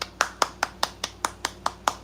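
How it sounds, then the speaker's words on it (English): Hand clapping, about ten sharp claps at a steady, fairly quick rhythm, close and moderately loud, with no talk over them. "I'm clapping for you."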